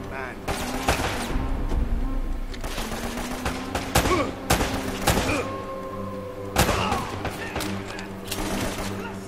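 Gunfire in the video game Uncharted: Drake's Fortune: repeated heavy shots and rapid bursts with booming thuds, loud and close, and someone talking between and over the volleys.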